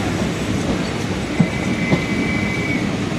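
An MRTS suburban train in Chennai runs steadily on its rails, with a loud, continuous rumble, a thin squeal from the wheels and a couple of sharp clicks from the track joints.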